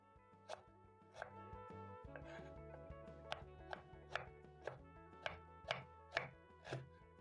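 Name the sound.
chopping ginger into smaller pieces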